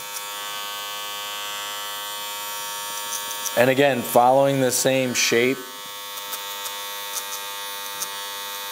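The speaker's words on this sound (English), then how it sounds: "I'm just gonna bump this trimmer line up a little bit, then go in open. So you can hear that cutting." An electric hair trimmer cuts hair during a skin fade, giving off a steady close buzz with harmonic overtones. Its pitch swells and warbles for a couple of seconds as the blades bite, while a person talks.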